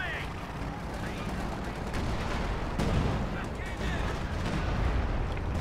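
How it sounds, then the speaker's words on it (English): 240mm armor company artillery barrage in the strategy game Company of Heroes 2, a dense rumbling wash of distant shell blasts and gunfire over constant battlefield din, with a commentator talking over it. "There is the armor company artillery, the 240mm."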